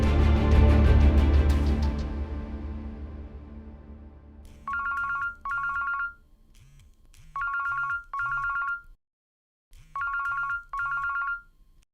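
A telephone rings in a domestic drama scene, starting with a fading musical sting and then giving way to repeated paired electronic trills separated by short pauses, clear and close with no talk.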